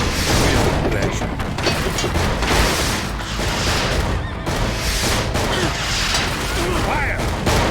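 Ranged units firing volleys in Battle Realms, a dense, continuous crackle of gunfire and impacts through a busy battle, with unit voice lines shouting over it.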